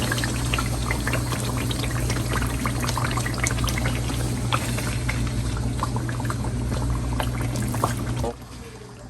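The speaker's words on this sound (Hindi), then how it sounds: "अब हम इसमें हमारा मैरिनेटेड चिकन शामिल कर देंगे जो हमने तकरीबन आधे घंटे से मैरिनेट करके रखा हुआ।" Marinated chicken goes into a hot pan with crushed tomatoes for a homestyle karahi, giving a dense, continuous sizzle and bubbling over a low steady hum that drops away abruptly near the end.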